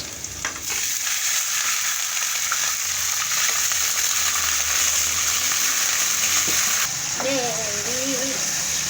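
Water poured into a pan of frying onions, setting off a loud, steady hiss and sizzle that holds for several seconds, with a brief voice near the end.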